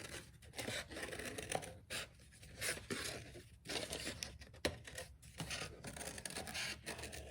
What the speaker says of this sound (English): I'm just going to cut right on that line that I drew, all the way around.